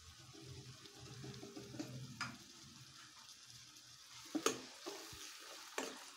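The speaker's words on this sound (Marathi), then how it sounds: "छान परतून घ्यायची आहे टोमॅटो प्युरी" Tomato puree made from two tomatoes is stirred into sautéing onions for a restaurant-style kaju masala, giving a soft, steady sizzle in a pan with occasional scraping stirs and faint clinks.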